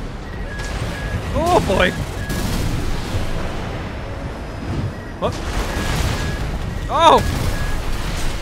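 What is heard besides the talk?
missile and explosive thrower explosions in Armored Core 6 video game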